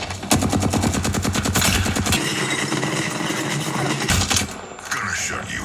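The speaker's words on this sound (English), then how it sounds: "They're shooting." Rapid automatic gunfire from a shooter video game, loud and sustained in dense bursts, with a short pause before firing resumes.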